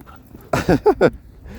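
A Caucasian Ovcharka puppy at a dog park gives three quick, breathy pants close by, in a short burst after a quiet moment.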